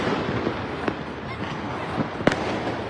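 Fireworks and firecrackers burst over Dhaka at night, a steady crackling hiss of distant bangs with a few sharper, louder pops standing out.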